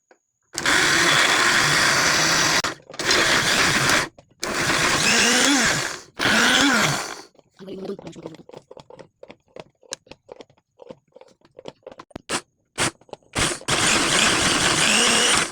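A blender roars in several loud bursts separated by short pauses, then a stretch of scattered clicks and knocks before it runs again at the end.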